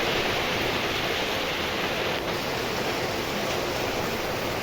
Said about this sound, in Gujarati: ધોધમાર વરસાદ, કાંઈ ઘટે નહીં એવો વરસાદ છે ધોરાજીમાં